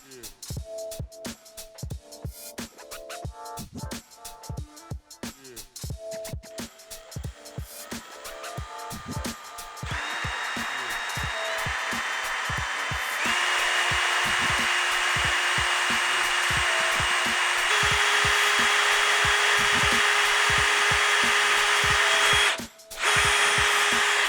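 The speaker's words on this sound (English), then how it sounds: "we're gonna take a 5/8 drill bit, the one that comes with the kit, and carefully make our hole" A 5/8 drill bit boring a hole through a BMW bumper, starting with rapid rough grinding bursts that smooth into a loud sustained whine, then a brief stop near the end before resuming.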